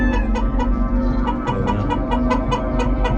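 A pure Cardinal Club Kelso gamefowl rooster in a pen gives steady, rhythmic clucks, close and clear, over a low constant background hum.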